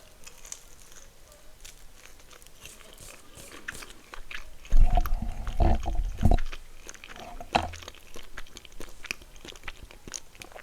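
Biting into and chewing a vegan pepperoni pizza, with a burst of close crunchy bites and mouth sounds in the middle, quieter rustling before and after.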